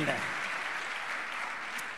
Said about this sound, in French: On va vous applaudir, merci beaucoup.